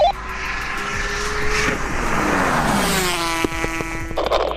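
A Toyota Supra with a 2JZ engine and a two-cylinder two-stroke Aprilia RS 250 drag race, loud engines droning and rising steadily in pitch through the gears, with a sharp shift near the end.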